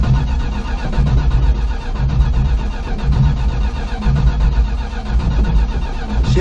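Plymouth Fury engine cranking and firing up, with a loud, rough, continuous churn that catches and runs unevenly close to the car.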